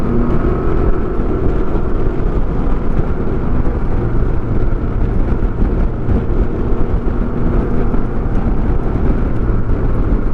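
Can-Am Ryker Sport three-wheeler engine held at wide open throttle, a loud, steady, dense roar that stays close and constant without any talking over it.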